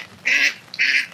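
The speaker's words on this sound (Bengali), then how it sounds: "হাঁস" Ducks give two short nasal honking quacks, close and fairly loud, in a rain-soaked Bangladeshi village on an afternoon, with a faint background hush between the calls.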